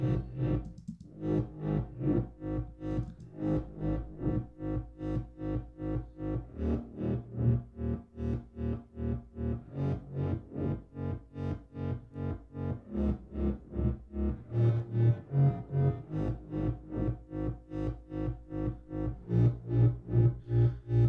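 A stretched, distorted bass sound from an electronic bass music production plays in a continuous rhythmic pulse of heavily processed, chorused tones, loud and alone without talk.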